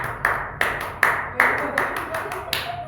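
A group performs the rhythmic Indonesian Scout clap (tepuk pramuka), a run of sharp hand claps in a patterned beat, close and fairly loud, repeated about eight times with short pauses between groups.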